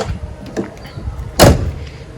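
A Toyota Corolla Twincam car door is shut firmly, giving one solid thud with a brief metallic ring, preceded by faint softer handling knocks and followed by a quiet room background.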